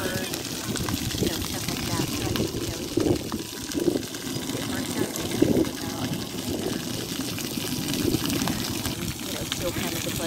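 Water spraying at a splash pad at Center Lake in Warsaw, Indiana, a constant loud hissing rush with splashes, under distant cheering and children's voices.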